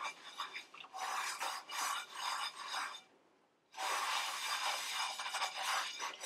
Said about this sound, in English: I'm just washing up the big frying pan just to basically get it all washed.